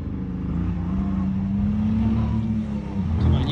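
Yamaha Ténéré 700 motorcycle engine climbing Hell's Gate in Moab, a steady droning hum that holds under load and rises near the end as the throttle opens, close and fairly loud with no talk.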